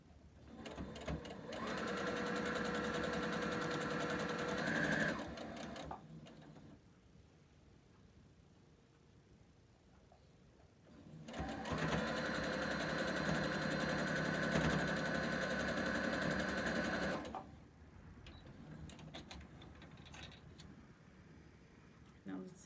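Sewing machine stitching quilt pieces for a Cross Churn block: two steady runs of fast, even stitching, each about five seconds long, separated by a quieter pause with faint handling sounds.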